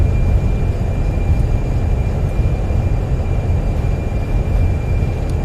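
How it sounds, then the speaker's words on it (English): An Airbus A320 rolls out after landing with thrust reversers deployed, a loud, steady, broadband engine roar with deep rumble and a faint high whine throughout, close and unbroken. "Reversers, nose down gently."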